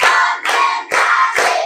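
A classroom of children claps together in a counted rhythm, four loud, evenly spaced bursts of massed hand claps about half a second apart, close and with no voices between them.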